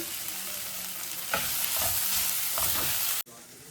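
Chillies are tossed into hot oil, giving a steady close sizzle with a few stirring scrapes before the sound cuts off abruptly.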